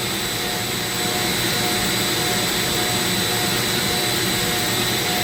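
A Dremel rotary tool fitted with a ball burr carves into purpleheart wood, producing a loud, continuous high-pitched whine with steady grinding that holds unbroken from start to finish.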